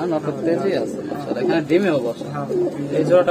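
Fancy pigeons at a pigeon farm cooing in soft, rolling warbles close by, heard beneath people talking throughout.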